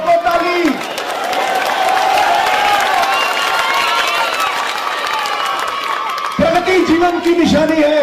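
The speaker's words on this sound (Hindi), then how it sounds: "ठोको ताली, ठोको ताली" At a political speech, the audience breaks into loud, sustained clapping and cheering on cue, a dense wash of applause, with a voice speaking over it at the start and end.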